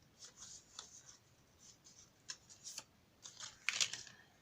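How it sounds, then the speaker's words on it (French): Folds being creased into a scrapbooking paper craft box, heard as quiet, close, scattered scrapes and rubs that build to a brief louder rustle near the end. "Là, on marque les plis."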